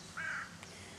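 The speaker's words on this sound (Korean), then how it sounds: "까마귀가 울고." A crow caws once beside a lake near Halle, a short, clear call over a faint outdoor background.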